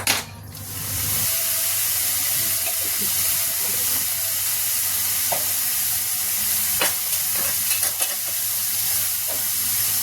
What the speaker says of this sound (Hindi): अभी देखिए मेरा टमाटर पक रहा है, इसमें हमने डाला है जीरा, हींग, हरा मिर्च और सारे खड़े गरम मसाले।